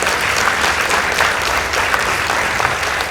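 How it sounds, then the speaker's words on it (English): A school debate audience claps for the winning team after the judges' scores, a loud, full round of applause sustained evenly from start to finish. "Please give them a round of applause."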